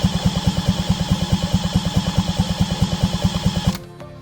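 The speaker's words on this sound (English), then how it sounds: "Turn the engine around, see if it's still, yeah, it's rotating freely." A race Yamaha TZR250 two-stroke engine is turned over by hand on the bench, giving a fast, regular train of rhythmic mechanical pulses up close that stop abruptly near the end.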